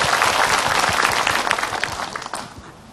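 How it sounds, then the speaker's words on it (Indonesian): Studio audience applauding at an Islamic talk show session in Indonesia, dense steady clapping that holds strong for a couple of seconds, then begins to thin and fade out. "Tepuk tangan."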